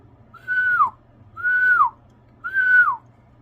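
A person whistles into a Cobra 50 XLR CB radio, three clear sustained whistle tones, each about half a second long and falling off at the end, evenly spaced over a low steady hum.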